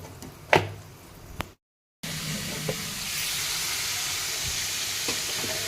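Bay leaf and dried red chilli hit hot oil with a couple of sharp clicks, then a steady loud sizzle of frying spices settles in and continues to the end.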